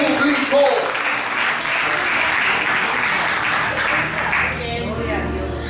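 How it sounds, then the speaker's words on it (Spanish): A church congregation bursts into loud applause during a sermon, hands clapping densely throughout while a voice briefly carries over it. "Un aplauso fuerte a Dios que vive."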